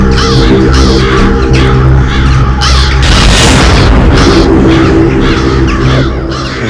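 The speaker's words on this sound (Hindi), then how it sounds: "इतने सारे कौवे इस वक्त?" Many crows caw loudly and repeatedly in a noisy flock, with a deep booming rumble swelling up midway through.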